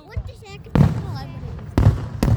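Fireworks bursting in a loud outdoor display, with three sharp booming explosions among crackling and excited voices of onlookers talking nearby.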